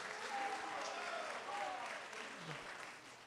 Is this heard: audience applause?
yes